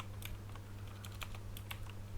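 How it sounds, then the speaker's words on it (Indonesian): Keys on a computer keyboard are tapped in quick irregular bursts while an IP address command is typed, the clicks close and crisp over a constant low electrical hum. "kita tinggal ketikkan perintah IP address"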